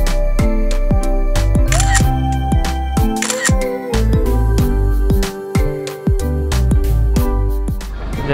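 A film camera shutter clicks repeatedly as photos are taken in a pretty indoor space, a quick series of sharp, close snaps with short pauses between them, over faint background music.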